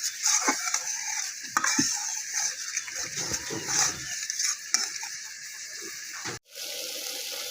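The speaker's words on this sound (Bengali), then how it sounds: "সব মশলাগুলো কষিয়ে নিলাম।" Spices sauté in oil for a fish bhuna, stirred with repeated scraping and clattering strokes over a bright sizzle, with a brief dropout before the frying resumes.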